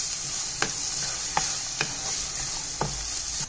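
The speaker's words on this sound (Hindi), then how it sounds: "प्याज डाल दिया इसको अच्छे से चलाते हुए भून लेंगे ब्राउन कर लेते हैं" Onions fry in a pan with a constant bright sizzle, while a spoon scrapes and stirs in several separate strokes spaced through the sizzling.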